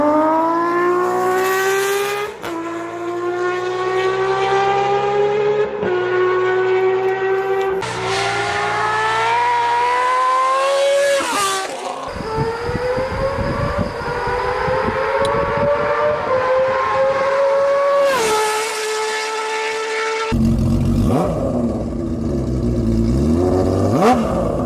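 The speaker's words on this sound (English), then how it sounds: "the scream and the wail that the CBX makes" A Honda CBX inline six-cylinder motorcycle engine screams and wails through repeated high revs, its pitch climbing and falling in a series of loud sweeps with sharp changes between them, close and alone.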